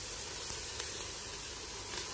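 Chopped ginger sautéing in a pan with onion and garlic for arroz caldo, a steady soft sizzle with faint crackles, close and continuous with no talking.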